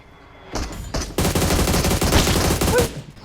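Rapid automatic gunfire in a mobile shooting game, a quiet moment and a couple of single shots, then a loud sustained stream of shots for about two seconds before it stops.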